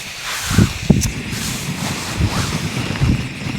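Wind buffets a tent pitched for a wild camp on a mountain summit, a loud steady roar with gusty swells rumbling close against the microphone.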